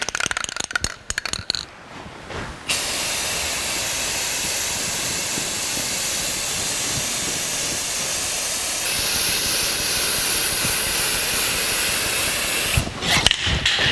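Steady spray-gun hiss laying a top coat of paint on a 1949 Chevrolet gasser, a continuous close airy rush that runs almost without break, preceded and followed by brief clatter and handling noises.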